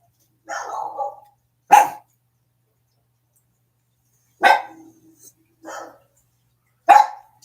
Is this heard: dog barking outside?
yes